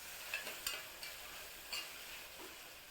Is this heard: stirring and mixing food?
yes